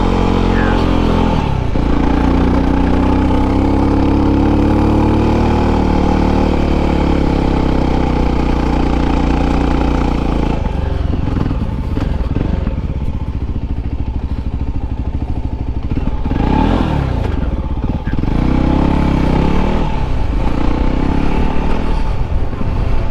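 Adventure motorcycles, a Voge 300 Rally and a Yamaha Tenere 700 World Raid, ride a rutted green lane trail, the engine droning loud and steady throughout with rough bumps and rattles from the rough ground.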